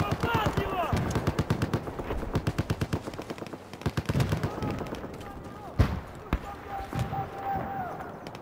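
Rapid automatic gunfire from Battlefield 4 crackles in dense bursts for several seconds, then thins into a few scattered, sharper shots, with a voice talking now and then over the shooting.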